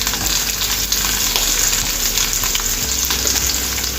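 Cumin seeds and onions fry in hot oil in a pan, a loud continuous sizzle and crackle close by with no talk.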